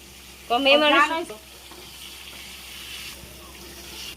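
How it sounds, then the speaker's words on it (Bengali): Koi fish frying in oil in a pan, a loud burst of close sizzling and spitting early on, then settling into a quieter steady fizz. "মাছটা আমার ভাজা হয়ে গেছে, দেখেন।"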